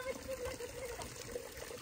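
Water trickling from a mountain spring on a Nepal hill trail into a container, a faint, steady burbling fill under outdoor background noise.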